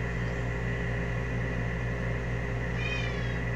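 A house cat gives a single short meow mid-clip, fairly faint beneath a steady loud hum of air conditioning.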